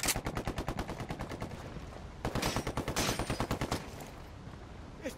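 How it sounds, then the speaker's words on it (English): Loud, close automatic gunfire in Tom Clancy's Ghost Recon Wildlands: a long rapid burst of shots, a brief pause, then a second dense burst with overlapping reports. "I'm shooting these fuckers"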